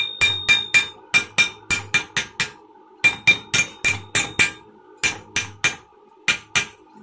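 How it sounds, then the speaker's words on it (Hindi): Someone hammers on the impeller of a domestic water pump with loud, sharp metallic blows struck close up in quick bursts of several strikes, separated by short pauses. "इस तरह पहले ठोक दें, निकालना बहुत आसान हो जाएगा ये।"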